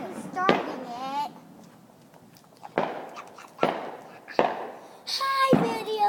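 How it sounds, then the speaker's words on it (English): Backyard Fourth of July fireworks going off in several sharp bangs spread across a few seconds, with a crackling burst near the end and children and adults talking in between. "Watch the fireworks."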